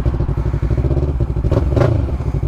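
A Yamaha MT-03 motorcycle fitted with an Akrapovic full system exhaust burbles at a loud, close, rhythmic idle, with a brief blip of revs toward the end.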